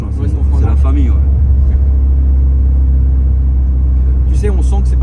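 Loud tuned car driving through town, a heavy steady engine rumble with strong vibration running throughout, near and constant, with brief voices talking over it at the start and end.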